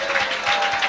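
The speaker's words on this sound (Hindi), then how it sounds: "Clap your hands and praise the Lord." A church congregation claps hands together in praise at a worship service, producing a dense, steady wash of applause with loose rhythmic pulses and a faint hint of voices underneath.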